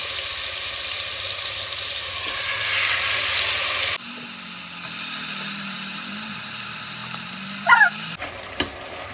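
Chicken masala for Hyderabadi biryani frying in hot oil, a steady loud broadband sizzle that shifts in tone partway through, with a couple of brief clinks near the end.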